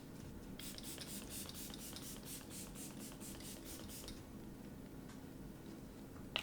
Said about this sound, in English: I'm going to set my face with my Morphe Luminous Setting Mist.